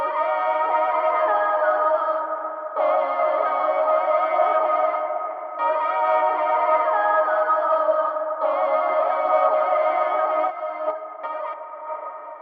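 Looped RnB soul beat built on a warm, chopped Bollywood melodic sample with filtered tone, repeating in bar-length phrases with brief breaks between them, no voices.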